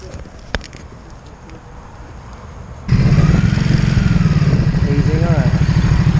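A Ducati motorcycle ridden in touring mode, quiet at first, then a steady loud engine drone kicks in about halfway and holds at cruising pace, with speech-like sounds mixed in.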